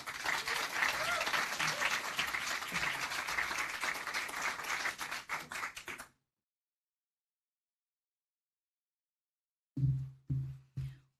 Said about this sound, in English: Please give a round of applause to all the 5 startups that have just given us all a dose of inspiration.